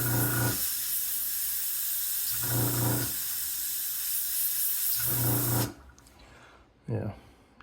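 Airbrush spraying paint onto the gem detail of a model: a steady airy hiss runs for about five seconds, then cuts off, with a brief puff of spray near the end.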